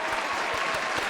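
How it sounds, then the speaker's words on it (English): Applause as an added sound effect for a podcast: a short, dense burst of many hands clapping, loud and continuous throughout with no voices. "Applaud sound number 3 that I'm going to add into the podcast."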